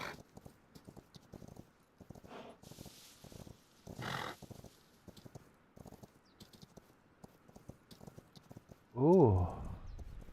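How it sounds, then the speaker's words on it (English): Horses in the video game Rust clop their hooves in scattered, irregular steps for several seconds, then one lets out a loud, close whinny near the end. Faint voices sit underneath. "it's their horses making sound."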